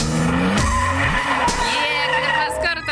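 A car drifting during a drift lesson, tires squealing loudly in long sliding screeches with engine revs rising and falling, close and continuous for a few seconds.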